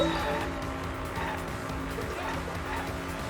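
Car driving and tire squeal from the Danganronpa V3: Killing Harmony video game, in a taxi-driving minigame: a dense, steady engine roar with screeching tires throughout, loud and continuous, with a possible voice mixed in.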